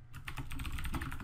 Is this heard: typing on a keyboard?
yes